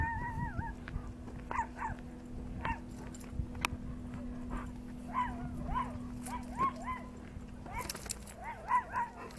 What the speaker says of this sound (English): And it's just a little dog.